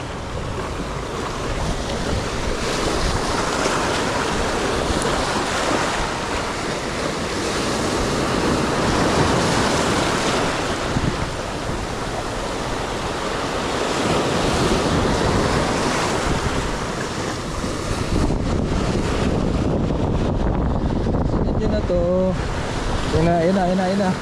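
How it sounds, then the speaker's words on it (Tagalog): Sea waves wash and crash against a rocky shore during rock fishing on the coast, a continuous roar with heavy wind buffeting the microphone and a voice speaking briefly near the end. "ang alon na naman."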